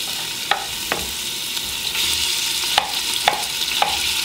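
Ground beef for chili sizzles in a hot frying pan, a steady close crackle broken by sharp scraping clicks of a utensil stirring the meat, with no voices.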